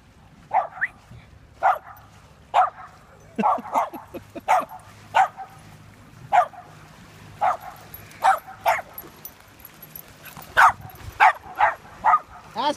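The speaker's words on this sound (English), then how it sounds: "What you barking at?" A dog barks repeatedly on a beach, loud and close, in short bursts with occasional whimpering yips between them, over a low steady background hum.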